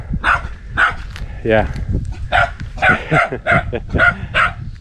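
A dog in Bali barks repeatedly in short, loud bursts close by, with a few yips in between and a person speaking briefly.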